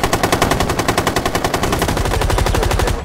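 Rapid automatic gunfire in the video game Rainbow Six Siege, a loud, close, sustained burst of fast evenly spaced shots that quickens and blurs toward the end, with no voices.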